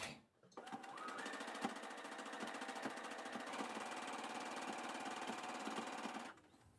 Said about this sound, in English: So now I'm going to try the sewing and set up my machine.